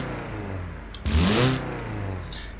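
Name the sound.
diesel four-cylinder engine revving while driving in BeamNG video game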